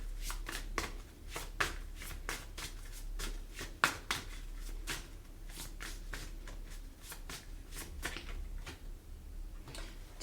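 Tarot cards are shuffled close by in quiet, rhythmic riffles and soft slaps that repeat steadily with no voice.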